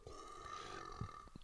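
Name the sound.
forced burp from swallowed air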